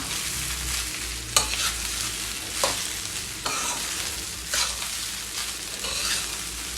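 Sabudana khichadi stirred in a pan over a slow flame, with a steady low sizzle and a few sharp scrapes of the spoon at irregular moments, close and fairly quiet, with no talking.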